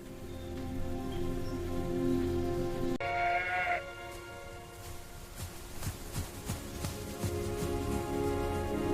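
Sheep bleat in a rural setting, several calls rising over steady rain-like patter, with a brief louder cry in the middle; no one speaks.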